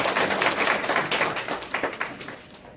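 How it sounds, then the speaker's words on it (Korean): An audience applauds a presenter at a food and drug safety open forum in Seoul, a close burst of dense clapping that gradually thins and fades over a few seconds. "다시 한번 박수 부탁드리겠습니다."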